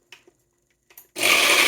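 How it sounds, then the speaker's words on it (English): Kitchen blender switched on abruptly after a few faint clicks and handling noises, roaring loud and close with a dense whirring buzz until the end. "I'm going to turn the blender on for a second"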